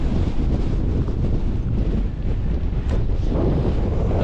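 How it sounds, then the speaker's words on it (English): Strong wind buffets the microphone on a Lake District mountain summit near Swirl How, a loud continuous rumbling roar with no let-up. "it's bloody windy"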